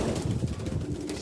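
Pigeons coo inside a loft in a short, close burst of throaty rolling calls, several birds overlapping loudly with no voices present.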